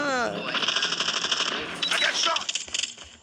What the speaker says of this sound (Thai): โอ้โหปืนกลจ้า